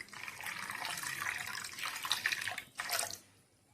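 Water is poured into a pot holding fenugreek seeds and turmeric while cooking ambadi bhaji, a short, faint splashing pour in two bursts.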